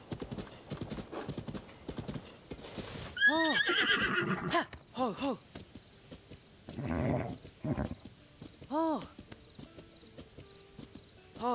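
A horse in Zelda: Tears of the Kingdom gives several loud, separate neighs and whinnies amid hoof clip-clop, with brief talk between them.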